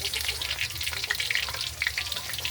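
Shrimp coated in flour and bread mix fry in hot oil with a steady, close crackling sizzle that carries on without pause and without talk.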